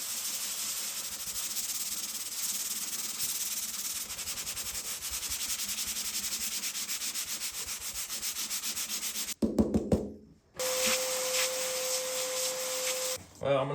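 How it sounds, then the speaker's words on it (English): Hand sanding of a Subaru WRX car roof with 180-grit sandpaper before a vinyl wrap, a steady rhythmic scratchy rubbing that runs continuously, breaks off briefly with a few knocks, then resumes as a brighter, even scuffing. "I'm gonna keep at it with 180 and hopefully maybe sand through most of the cracks here"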